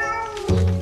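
A sterilized house cat gives a single short meow in a cat food advert, close and clear, sliding downward in pitch and lasting under a second, with no speech over it.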